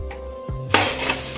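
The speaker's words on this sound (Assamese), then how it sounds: "পিঁয়াজখিনি অকণমান দেৰি ভজা যোৱাৰ পিছত মই ইয়াতে আলুখিনি ভাজিবৰ কাৰণে দি দিছোঁ" Potatoes added to hot oil with ginger, garlic and onion for a broiler chicken curry: a sudden loud sizzle that swells and holds steady, with light stirring against the pan, no talk.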